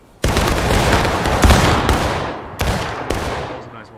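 A musket volley in the Civil War video game War of Rights erupts as one loud, sharp burst of massed gunfire that rolls on and decays, followed by two more single close shots.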